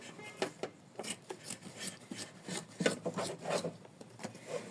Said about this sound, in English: We trim it from the sides.